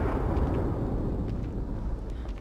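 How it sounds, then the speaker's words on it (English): A deep, sustained rumbling blast in The Evil Within 2 video game, filling the low end loudly and steadily for a couple of seconds with no speech over it. "I've heard the explosion before."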